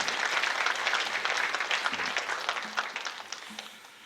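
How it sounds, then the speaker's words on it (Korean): A church congregation applauds its young adults during a new year early-morning prayer service, with a full burst of clapping that gradually thins and fades, with a faint voice briefly underneath. "다시 한번 우리 큰 박수로 우리 사랑하는 청년들 격려하고 감사하고 축복합니다."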